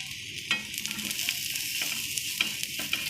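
Steady sizzling of besan poli, a gram flour flatbread, frying in oil on a pan, with a few sharp scraping clicks as a spatula turns it.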